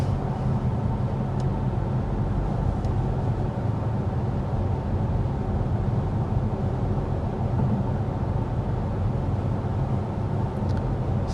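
Cabin of a 2025 BMW X1 cruising at 55 mph with the climate fan on speed 1: a steady, even broadband road and wind rumble, muted and constant throughout, with no talking.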